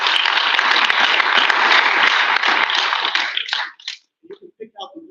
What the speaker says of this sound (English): Let's give a round of applause for all 85.